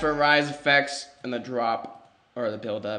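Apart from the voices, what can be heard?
No everyday noise stands out behind the speech.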